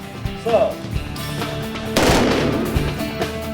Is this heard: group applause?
no